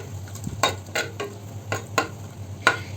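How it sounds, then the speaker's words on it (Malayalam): Shallots being stirred in a heated clay pot while making a fish curry: about six separate scraping strokes over a faint steady sizzle, close and moderately loud, with no talking. "ഇനി ഇതൊന്ന് ഇളക്കി കൊടുക്കാം കേട്ടോ."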